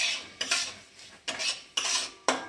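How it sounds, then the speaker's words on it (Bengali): A spoon stirring semolina through hot ghee in a pan for a coconut semolina sweet, heard as four separate scraping, clattering strokes with short pauses between them, close by and with no voices. "ঘিটা গরম হয়ে গেছে, আমি এবার সুজিগুলো দিয়ে দেবো।"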